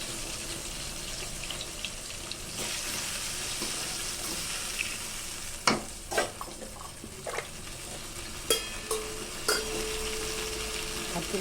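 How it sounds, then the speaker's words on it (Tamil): Tomatoes sautéing with a pinch of salt in a pan, a soft steady sizzle under faint stirring, with a few sharp scrapes and clinks of a spoon against the pan partway through. "நல்லா வதக்கி விட்டுக்கணும் கொஞ்சமாக சால்ட்டு சேர்த்து"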